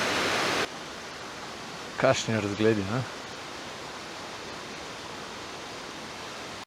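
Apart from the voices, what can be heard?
waterfalls on a mountain stream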